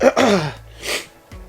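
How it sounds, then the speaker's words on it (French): A single sharp sneeze bursts out close by, followed by a brief breathy exhale and a soft sniff. "Ah, et maintenant j'éternue."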